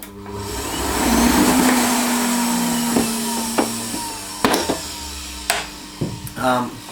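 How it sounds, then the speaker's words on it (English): An Electrolux Ultra Active ZUA 3820P vacuum cleaner with a worn motor, run too long on a full filter, drones loudly and unevenly up close, whining and rattling with sharp knocks and clicks toward the end. "I'm going to give you a quick listen on how this motor sounds."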